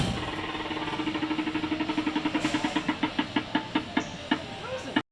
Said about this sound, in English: We're about to rip some carts.